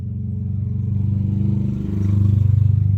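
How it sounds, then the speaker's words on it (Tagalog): A motorcycle engine drones close by on a road, rising slightly as it passes, steady low rumble without talk. "Maraming dumadaan ngayon ng mga motorsiklo guys."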